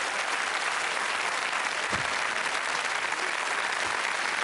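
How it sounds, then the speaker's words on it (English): A game show studio audience applauds steadily and loudly, a dense, even wash of clapping that holds for several seconds without talk. "Let's give him a nice round of applause."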